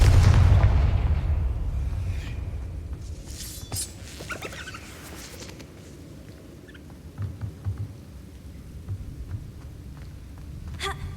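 A Confringo spell explosion in the PS5 game Hogwarts Legacy opens with a loud, deep boom that rolls off and fades, followed by scattered faint crackles and small impacts over low ambient game sound.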